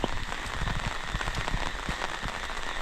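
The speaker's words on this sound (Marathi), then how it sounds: "मला वाटतं पाऊस हा आहेच कंटिन्यू गावी मध्ये गायब होतो मध्ये येतो पण आणि आला तर असा येतो ना बेबाटच जोरात एकदम" Heavy rain pouring down in a Konkan village surrounded by farmland, a dense, loud, continuous patter of drops on surfaces with sharp nearby splats, no voices.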